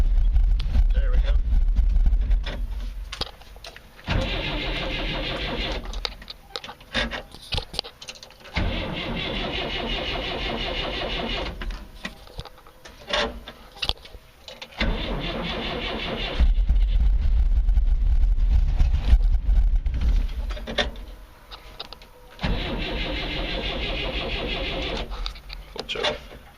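Cold 1965 Datsun engine cranking and catching in several bursts, running rough at idle between pauses, loud and close, with people talking in the quiet gaps between starts.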